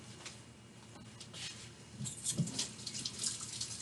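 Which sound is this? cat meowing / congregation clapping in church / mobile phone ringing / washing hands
washing hands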